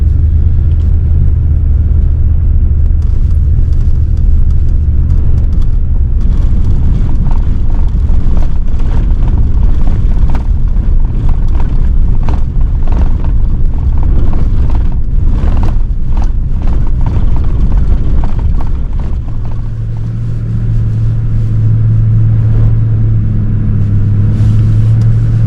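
A vehicle in full drive rolling along off-road trails and onto a drivable beach in northeast Florida, a steady close engine and tyre rumble running throughout with a deeper hum joining near the end, no talk.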